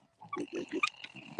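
Pigs grunt and oink on a farm in a quick series of short, low snorts at moderate distance, with a sharper squeal at the end.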